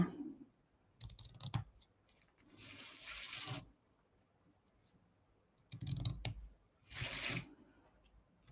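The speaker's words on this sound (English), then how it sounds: "And get our ribbon scissors." Crisp snipping bursts in two pairs, scissors cutting through ribbon close by with quiet pauses between the cuts.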